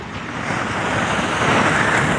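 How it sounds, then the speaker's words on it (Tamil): Morning sea waves washing onto the shore, a continuous loud surf roar with wind noise and no voices. "காலையில் அமைதியாக இருக்கும் கடல்ன்றது உண்மைதான்"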